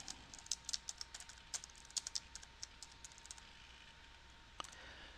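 Light, quiet typing on a computer keyboard while entering a report name in a financial reporting wizard, a steady patter of soft key clicks over faint room hiss with no talking.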